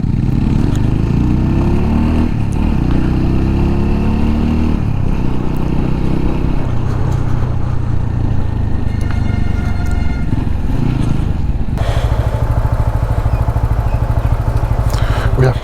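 Motorcycle riding up to and through a highway toll plaza in India, its engine a steady loud drone with a brief shift in pitch near the end, with faint speech in the background.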